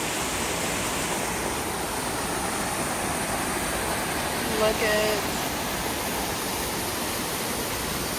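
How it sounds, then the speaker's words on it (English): Waterfalls near Bolton Valley Ski Resort pour with a constant, full roar of rushing water that fills the whole scene, while a voice speaks briefly over it. "Look at all these waterfalls."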